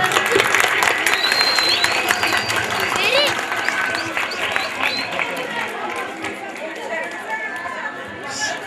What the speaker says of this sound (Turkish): Alkışlar nerede alkışlar?